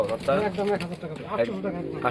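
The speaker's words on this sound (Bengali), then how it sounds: "কবুতর এটা ইন্ডিয়ান কবুতর" Indian pigeons cooing at a pigeon farm, soft repeated throaty coos close by, mixed under people talking.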